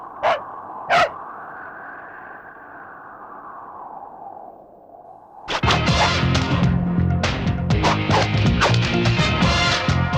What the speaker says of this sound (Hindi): कुत्ता इस तरह भौंकता नहीं है ना